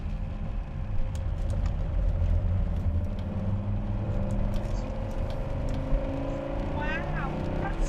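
A Volvo saloon, a big heavy car, driven hard around the Donington Park racing circuit, its engine droning steadily throughout with rising pitch as it accelerates, heard from inside the cabin under constant road and wind rumble.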